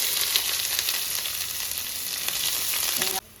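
Steady crackling sizzle of food frying in a hot pan, close and continuous with faint stirring, cutting off abruptly at the end.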